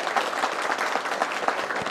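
A crowd claps steadily to welcome new members joining the Telugu Desam Party from YSRCP, a brief continuous patter of applause at even volume.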